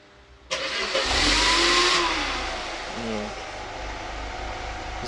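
A Mercedes car engine fired by remote start from a newly fitted alarm system: a sudden crank and catch, a brief rise in revs, then a settling into a steady, close-up idle.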